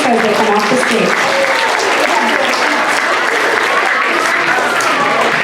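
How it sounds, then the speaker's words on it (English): A loud, dense round of applause from a school audience for students coming off a stage, continuous clapping throughout with crowd voices mixed in near the start. "show me a good round of applause for this group of students as they come off the stage"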